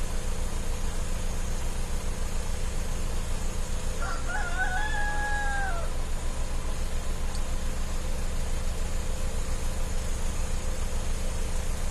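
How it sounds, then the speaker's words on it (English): A rooster crows once at a distance, a short rising call over a steady engine-like hum and background noise. "Yeah, those roosters are getting around."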